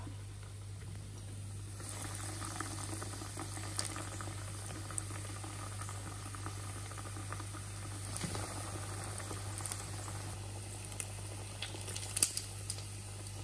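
Breaded Kiev cutlets browning in hot oil, several in the pan at once, give a steady close sizzle with scattered small pops and crackles throughout, and no voices.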